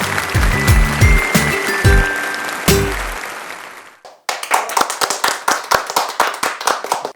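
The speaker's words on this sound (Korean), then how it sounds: "박수로 맞이해주세요." Audience members at a disability community integration project sharing event clap to welcome the project staff. A loud burst of applause mixes with a cheer and a musical sting, then after a brief gap a smaller group claps in quick, sharp, uneven beats close by.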